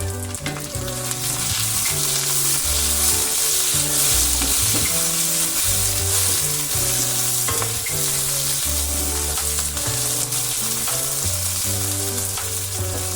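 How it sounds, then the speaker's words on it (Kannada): Chopped tomato and fried onion sizzle loudly and continuously in a pan for a bhindi fry, with stirring scrapes and clinks throughout and no voices. "ನೆಕ್ಸ್ಟ್ ನಾನಿಲ್ಲಿ ಹೆಚ್ಚಿಟ್ಕೊಂಡಿರೋಂಥ ಟೊಮೆಟೊ ಹಾಕೋತಾ ಇದ್ದೀನಿ."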